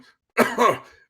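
A voice imitates a character coughing and spluttering during a tabletop roleplaying game, one short rough burst.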